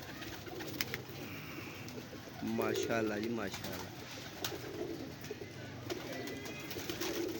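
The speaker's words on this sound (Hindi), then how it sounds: "फिर कबूतर है।" Pigeons coo nearby in soft, throaty, warbling calls that rise clearly for a moment and recur faintly, while someone speaks briefly over them.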